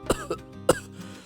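Two sharp coughs, the first with a softer follow-up, come from a weak, ailing labourer in a Hindi moral story, close and clear with no talking.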